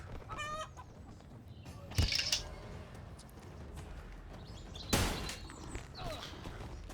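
Chickens cluck and squawk in the video game Blade & Sorcery, with scattered clucks and two sharp impact bursts, while a voice talks quietly underneath.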